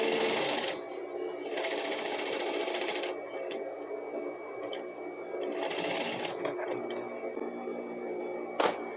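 Sewing machine stitching a straight seam on a simple straight skirt, a fast close mechanical whir running in several bursts separated by brief pauses and a few clicks.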